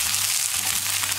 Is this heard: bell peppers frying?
yes